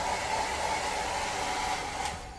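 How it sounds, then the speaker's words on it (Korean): A steady, loud hair dryer blows continuously, heating an adhesive sticker on a camper van, with a constant whooshing hum, then fades toward the end; no one speaks. "드라이기로 가열해주면 훨씬 잘 붙습니다."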